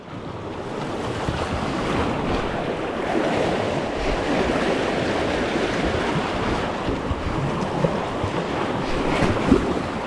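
Small river waves slap and rush around a kayak on the Sacramento River, a steady broadband wash with wind buffeting the microphone throughout and no talking.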